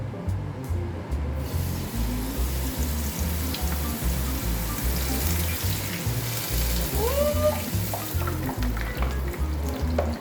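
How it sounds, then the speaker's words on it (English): Spice bag chicken deep-fries in hot oil with a loud, constant bubbling sizzle heard up close and no talking. "Into your oil, and now be careful on how much it bubbles."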